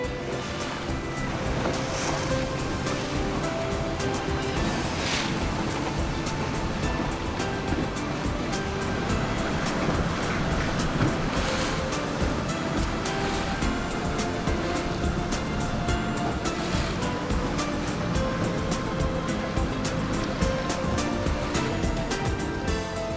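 Rough sea waves crash against coastal rocks in a continuous, loud roar of surf, with repeated surging breaks and spray and no voices.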